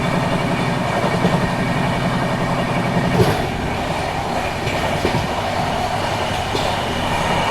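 The Kaifiyat Express rushes through Panki Dham station at speed, a loud sustained roar of wheels with rhythmic clickety-clack and a sharp rise around the middle, no talk.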